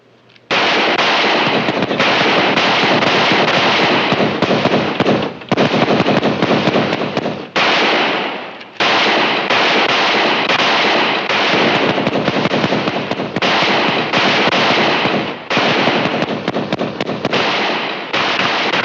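A Gatling gun fires in long rapid bursts, loud and close, in a Western battle scene, the crackling volleys broken by brief pauses.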